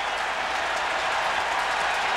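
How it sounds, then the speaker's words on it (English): Baseball crowd at a ballpark during a 2001 Giants vs Padres game, a steady broad roar of cheering and scattered clapping filling the whole stretch without talk. "you may be hearing the crowd now cheer"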